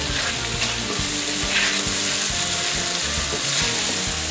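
Orange roughy fillets sear in a frying pan, a dense, steady sizzle with faint crackles, close and constant throughout.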